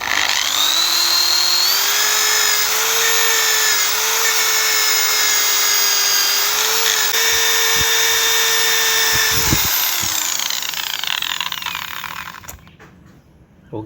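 A buffing wheel loaded with polishing compound works scratches out of a tachometer gauge dial face, giving a steady, loud motor whine that holds for about twelve seconds before spinning down and stopping.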